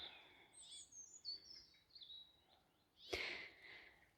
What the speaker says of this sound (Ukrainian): І пташечки співають